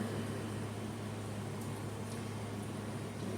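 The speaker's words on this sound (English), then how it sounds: "I hope you can hear me over fans and air conditioning" Fans and air conditioning run indoors, a steady broadband hiss and whoosh with a low constant hum, continuous and faint with no change in level.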